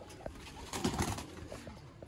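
Sialkoti pigeons in a loft coo in a few soft, low repeated calls, close and moderately loud, with faint background rustle and no talking.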